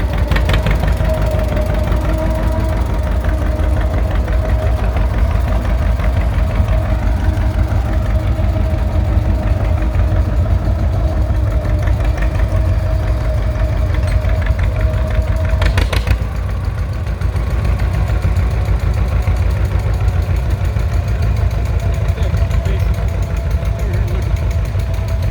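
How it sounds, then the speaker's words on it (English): John Deere 720 tractor engine chugging along steadily, a loud continuous low knocking rumble with an even beat, voices faintly present over it. "The 720 John Deere heading out."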